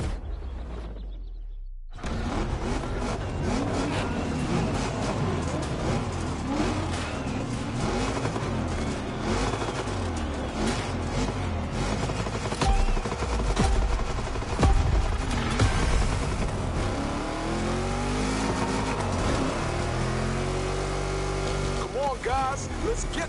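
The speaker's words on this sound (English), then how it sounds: "It's the Caprice with a fetching blue color paintwork, gold wheels, and a killer engine sound." Chevrolet Caprice donk with blue paint and gold wheels revving hard in the racing game The Crew Motorfest, a loud, rumbling engine that rises and falls in pitch through repeated throttle blips, mixed with game sounds.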